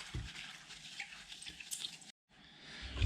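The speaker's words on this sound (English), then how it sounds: "So I've just got a spray bottle, and we'll just spray some water into the top of the mixture" Water from a spray bottle hisses onto a bonsai soil mixture in short bursts, close and fairly quiet, with a brief gap of silence before the spraying resumes.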